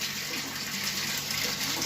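Water pours from a pipe into a garden pond to oxygenate it, a steady close splashing and gushing that continues evenly without pause.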